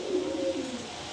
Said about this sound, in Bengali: এখানে এক পেয়ার আফসান গ্রিজেল কবুতর দিলাম।